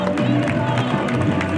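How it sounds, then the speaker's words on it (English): A crowd cheers and applauds at the West Seattle Grand Parade, with dense clapping and crowd noise mixed under an announcer's voice amplified over a PA. "Give a big round of applause"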